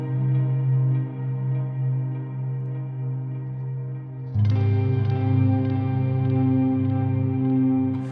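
A clean electric guitar through a neural amp model of a Soldano SLO100 rings out sustained chords with a shimmering, wavering modulated reverb, then a brighter chord swells and lingers, with no talking.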